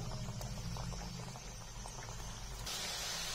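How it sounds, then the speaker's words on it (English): Masala biscuit dough deep-frying in hot oil makes a dense, continuous bubbling with a low rumble underneath, shifting slightly in tone near the end, with no talk. "We will leave the prepared biscuits into it and fry it until golden brown."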